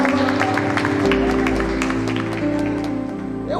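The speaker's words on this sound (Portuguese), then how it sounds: "Se você crê nisso, aplauda, aplauda, adore-o." A church congregation clapping during a worship service, scattered hand claps heard beneath sustained keyboard or organ chords that dominate the sound, moderately loud throughout.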